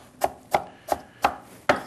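A kitchen knife finely chops stuffing ingredients on a cutting board with five crisp, close, evenly spaced thuds and no voices.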